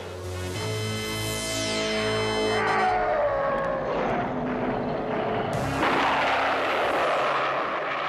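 The Wind Raider aircraft flies in the He-Man and the Masters of the Universe video game Quest for the Sword: loud, continuous electronic engine roar with sweeping falling tones, then a sudden brighter rushing burst near the end.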